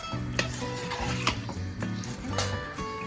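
Bits of boneless chicken handi with cream, kasuri methi and coriander sizzle in a pot while a spoon stirs and scrapes against the metal in short repeated strokes, close and fairly quiet, with no talking.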